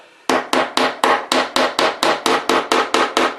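A hammer drives tacks into the base board of model railway fiddle-yard track: about thirteen sharp, evenly spaced taps, close and loud, with no talking.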